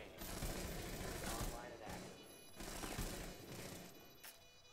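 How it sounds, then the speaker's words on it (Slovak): Light machine gun fire in a video game, bursts of rapid shots rattling across a busy, dense battle mix with some speech in the background. "Míra tu strieľal so svojím ľahkým guľometom."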